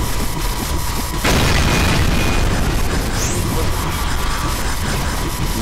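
A bomb goes off in Garry's Mod with one sudden, loud boom that opens into a sustained roaring, crackling blast wash lasting several seconds, fairly close and filling the scene.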